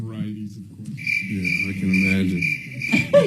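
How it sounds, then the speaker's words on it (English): Crickets chirp in a steady high trill alongside a doorbell tone, with people talking over it throughout. "We're hearing the doorbell, the crickets."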